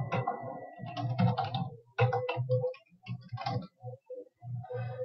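Fingers type quickly on a computer keyboard to fill in form fields, producing close, rapid bursts of key clicks with brief pauses between runs.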